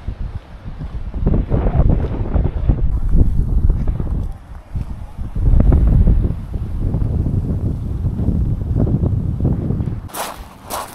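Boat out on the water off Montenegro, with heavy wind buffeting the microphone in loud gusts, rushing and rumbling for several seconds, then easing near the end.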